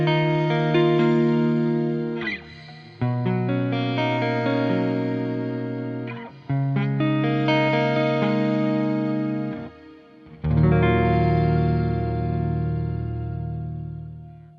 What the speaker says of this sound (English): There are some special reverbs. The shimmer reverb.